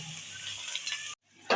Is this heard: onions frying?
yes